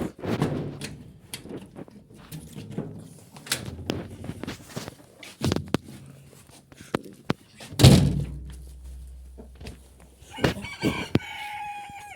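Chickens cluck amid scattered thumps and knocks, and a rooster crows near the end.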